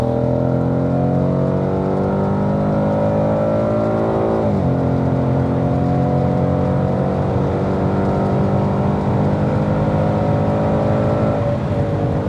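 A Ford Mustang GT V8 on a circuit gives a loud, steady engine roar that climbs in pitch, drops sharply at a gear change and then climbs again, with no talk over it.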